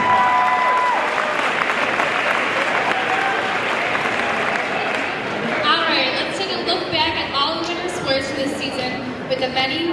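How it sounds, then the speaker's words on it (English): A school assembly audience in a gym applauds and cheers at length for a recognized team, a dense steady wash of clapping with crowd chatter mixed in throughout. "Let's give them a round of applause and keep cheering them on as they move on to regionals."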